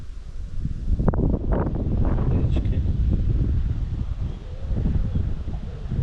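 Gusty wind blows across a riverbank during chub fishing with a lure, a steady roaring buffet on the microphone throughout. A voice speaks a single brief word.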